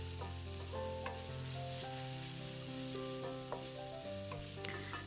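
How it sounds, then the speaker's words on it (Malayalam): Tomato sautéing in a pan for Kerala chickpea curry, a steady close sizzle and frying hiss running throughout, with faint stirring, over a background of sustained tonal hum. "തക്കാളി ഇനി ഒരുപാട് വഴറ്റിയെടുക്കണ്ട, ജസ്റ്റ് ഒന്ന് വാടിയാൽ മാത്രം മതി."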